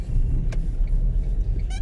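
Car driving through city streets in Wrocław, a close, steady low rumble of engine and road noise from inside the vehicle, with a couple of faint brief clicks and no talking.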